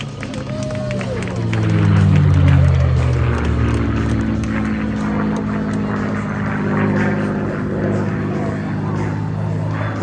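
P-51 Mustang propeller aircraft flying at the El Centro airshow, a loud engine drone with a falling pitch as it passes close overhead, then a sustained roar with an announcer's voice over the field.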